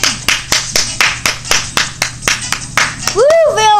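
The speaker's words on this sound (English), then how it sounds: "I gotta give him a round of applause." A single person clapping hands about twice a second in a steady rhythm, close and fairly loud, ending as a voice cheers.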